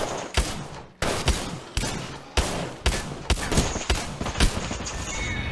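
A shotgun fires in Apex Legends, about eight loud, sharp blasts at a steady pace roughly every half second to second, each followed by a short decay over constant game background noise.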